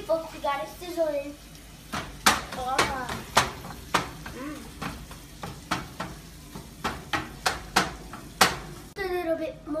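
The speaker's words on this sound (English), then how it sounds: "we got it sizzling" Taco meat fries in a pan with a low, continuous sizzle, broken by repeated sharp scraping and stirring strokes of a utensil against the pan while someone talks over the cooking.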